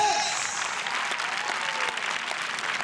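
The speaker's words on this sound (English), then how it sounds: "Come on, clap your hands for Jesus." Congregation at a church service claps hands together, a thick, steady clapping that carries on evenly, with a voice faintly audible beneath it.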